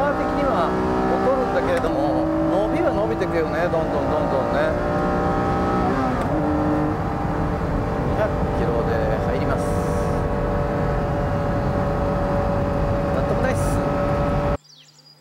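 A Honda NSX-R accelerates hard from a standing start with a manual gearbox, its engine screaming up through the revs in loud rising sweeps broken by brief gear-change dips, then cutting off abruptly near the end.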